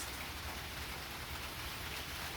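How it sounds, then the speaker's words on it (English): Steady rain falls outdoors on a rainy day, a continuous even hiss of drops on surfaces with no breaks or voices across the short stretch. "since it's so rainy today"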